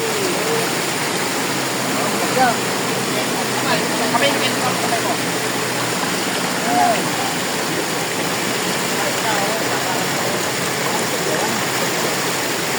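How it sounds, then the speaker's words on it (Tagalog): Rushing floodwater from heavy rain roars as a strong, steady broadband wash throughout, loud and close, with voices faintly audible beneath it. "malakas ang agos"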